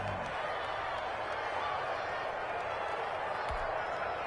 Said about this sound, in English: this crowd urging on their defense. They're up and making noise.